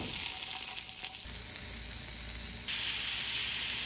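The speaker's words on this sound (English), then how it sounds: "now we're gonna sear these up real quick" Snickers-filled sausages sear in a hot pan with a steady, fairly loud sizzle that swells noticeably louder partway through, no voices over it.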